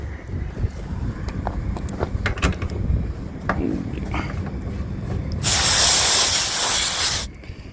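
A loud, steady gas hiss from a Gree split air conditioner's service port as a pressure gauge is connected, bursting in near the end for about two seconds after scattered clicks and handling noises.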